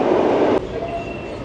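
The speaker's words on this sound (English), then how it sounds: "the train goes over the top of the building" Overhead train rumbling across the top of a building, a steady broad roar that cuts off abruptly partway through, leaving quieter ambience with a faint thin squeal.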